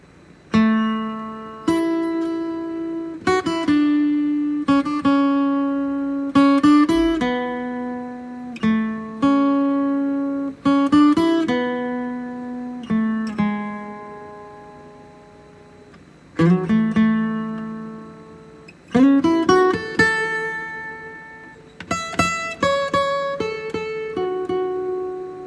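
Acoustic guitar playing the intro theme of a song, a sequence of plucked melodic phrases with ringing notes and short pauses between them, close and clear with no voices.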